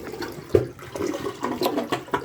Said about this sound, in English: Now I'm going to flush it again.